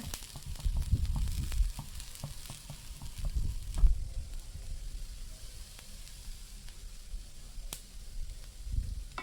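Raw plantain slices frying in hot oil for a wedding-style vazhakkai fry, a steady crackling sizzle with occasional louder pops and stirring bumps, close and continuous throughout.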